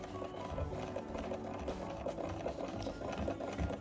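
A vintage Australian-made SAF Pinnock sewing machine stitches through fabric with a steady, fast mechanical clatter and hum, faint and continuous, with no voices.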